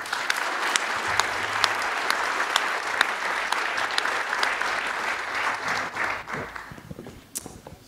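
Audience applauding at a government technology showcase after panel presentations and product demonstrations, sustained dense clapping from a large crowd that tapers off near the end.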